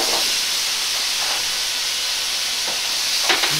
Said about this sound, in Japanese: 醤油の香ばしさを引き出すように炒めていきます。